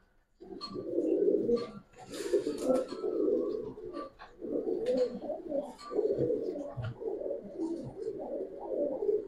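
Giribaz pigeons cooing steadily in repeated soft, throaty phrases, several birds overlapping close by with a few brief chirps, no talk.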